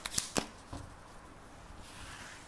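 A deck of tarot cards being shuffled during a reading, with a few sharp riffling bursts near the start and then softer card rustles fading into quiet room tone.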